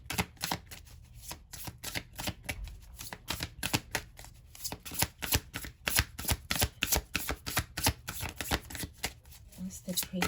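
A Priestess of Light Oracle card deck being shuffled by hand, steady riffling and slapping of cards in quick repeated strokes, close and continuous, with faint talking in places.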